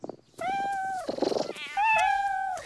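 Cartoon cats meowing in an animated adventure series, two drawn-out high meows separated by a brief rougher chattering burst, close and clear with nothing else over them.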